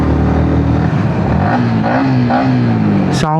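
A Yamaha XSR 155 motorcycle engine drones loud and close while riding at speed, with a steady, slightly rising pitch under wind noise and a short sharp burst near the end.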